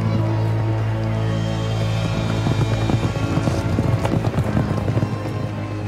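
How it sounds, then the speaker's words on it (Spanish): Horses gallop in a race at Ludwigslust, a continuous thudding of hooves under a steady low background hum, growing busier toward the end, with no speech. "Carreras de caballos en Ludwigslust."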